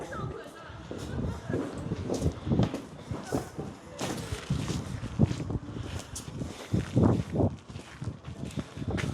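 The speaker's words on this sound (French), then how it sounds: "Il y a du vent, il y a du vent, il y a du vent." Gusty wind buffets the microphone in uneven rumbling bursts, with people talking and moving nearby under the noise.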